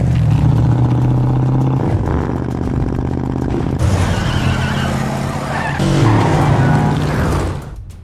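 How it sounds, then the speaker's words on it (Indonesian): A modified car driven hard on a race track, its engine revving and rising in pitch while tires squeal and skid, loud and continuous with shifting tones throughout. "Keesokan paginya Brian mengetes mobil hasil modifnya di lintasan sambil mengasah skillnya dalam menyetir."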